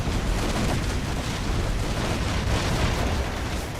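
Ship cannons fire in a naval battle from a Venetian trading game, a continuous loud roar of overlapping blasts and rumbling with no clear gaps between shots.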